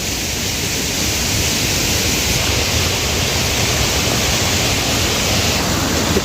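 Clear mountain water flowing down from the Himalaya past a village road rushes steadily and close, a dense, even hiss with no pauses and no voices.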